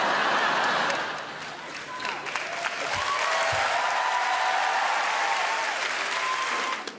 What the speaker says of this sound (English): thank you for stopping clapping really quickly